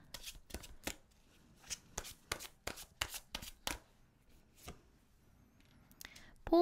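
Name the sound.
shuffling tarot cards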